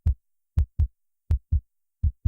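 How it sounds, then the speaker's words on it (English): Heartbeat thumps in quiet isolation, low and close, arriving as paired lub-dub beats at a steady rhythm with no other sound around them. "listening to my own heartbeat."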